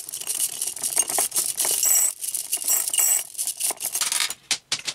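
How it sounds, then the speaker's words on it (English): Orange festive glass beads poured into a mason jar, a dense bright clatter and rattle of many small pieces running steadily for several seconds, close and loud, then thinning to a few last clicks. "I'm just going to take my orange festive glass beads right here."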